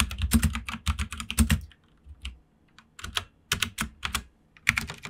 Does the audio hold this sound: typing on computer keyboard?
yes